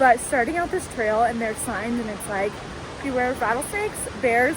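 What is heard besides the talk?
rushing water of a stream beside a hiking trail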